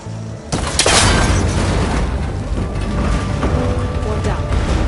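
In Horizon Forbidden West, a cable connector is shot and breaks apart: a sharp impact followed by a heavy metallic boom and grinding, ratcheting mechanical debris that continues loudly to the end.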